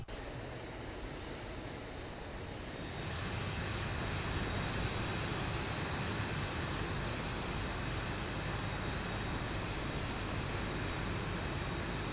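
A steady aircraft engine drone in the X-Plane 12 flight simulator swells louder after a few seconds at engine start, then holds a constant, even roar with no voices.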